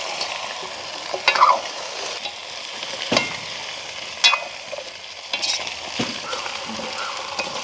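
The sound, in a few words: stirring drumsticks frying with onion and green chilli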